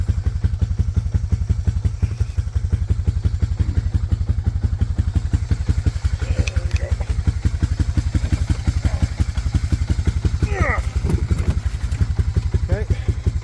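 An ATV engine idles and runs steadily in a snowy setting before plowing snow, a close, loud, fast-pulsing mechanical putter with occasional clunks, and a voice briefly speaks over it.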